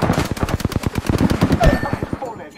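Kraber sniper rifle fire and rapid automatic gunfire in a video game, a dense burst of about twenty sharp, loud, close shots in quick rhythm that tails off into a short ringing decay.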